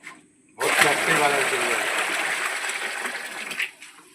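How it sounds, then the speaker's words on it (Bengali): Water pours and splashes steadily into separate containers set out for soaking guavas, a continuous gushing stream lasting about three seconds with voices talking over it. "এই যে আলাদা আলাদা করে সব পাত্রে জল নেওয়া হচ্ছে"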